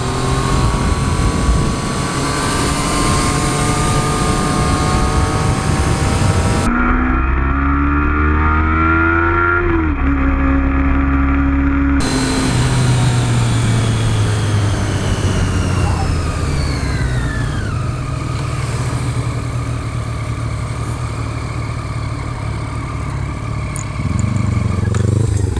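A 2014 Triumph Street Triple R motorcycle engine revs hard and pulls through third gear, its pitch climbing and shifting continuously over loud, close wind rush for the whole stretch.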